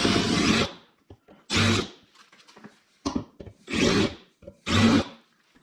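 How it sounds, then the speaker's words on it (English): A stock plastic door latch cover for a Yamaha YXZ is deburred by hand. Five loud, close rasping strokes come in an uneven rhythm, with short pauses and faint scraping taps between them. "Get those burrs off of there."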